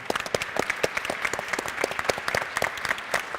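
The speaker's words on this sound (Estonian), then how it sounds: "Aplaus kõikidele osalejatele" Audience applauding the participants at the close of a conference debate: many hands clapping in a steady, irregular patter at moderate distance, with no talk over it.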